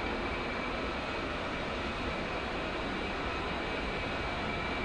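The right engine of an A-10C Warthog in DCS World spools up, producing a steady, loud, broadband jet roar with a faint high whine held throughout.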